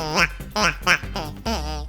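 A duck decoy call blown in short, nasal quacking bursts, four distinct honks in quick succession with the last one drawn out, close and loud, used to create a game sound.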